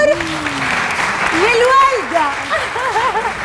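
A TV studio audience applauding, a steady patter of clapping beneath loud talk from people on stage.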